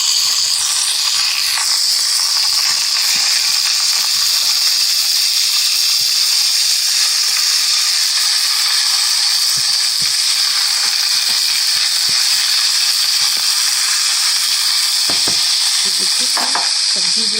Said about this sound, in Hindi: और अभी अनियन फ्राई कर रही हूँ।